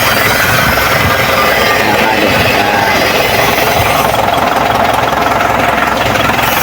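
An Isuzu Elf-style truck diesel engine runs after a full general overhaul, producing a loud, close, continuous rough clatter with a hard knocking edge throughout, with no voices.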